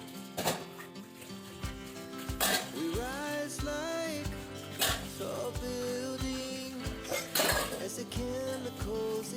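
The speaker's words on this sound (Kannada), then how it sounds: "ಇಲ್ಲೇ ನಿಂತ್ಕೊಂಡು ಪಾತ್ರೆ ತೊಳೆಯೋಣ ಅಂತ ಪಾತ್ರೆನ ತೊಳಿತಾ ಇದ್ದೀನಿ" Dishes and pots washed by hand in a village home clink and clatter in irregular bursts of metal knocks, mixed over steady background music.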